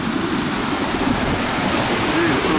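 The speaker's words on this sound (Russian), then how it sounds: "Смотрите, здесь прям водопады." Waterfalls roar in a steady, loud, dense rush of falling water, continuous and close throughout, with a faint voice underneath.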